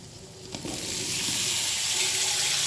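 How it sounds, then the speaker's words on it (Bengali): Pumpkin pieces and potatoes, seasoned with salt and turmeric, frying lightly in hot oil in a pan. A clatter as they go in, then a steady, loud hiss and sizzle that builds and holds. "কুমড়োগুলো আলুর সঙ্গে একটু হালকা করে ভেজে নিচ্ছি"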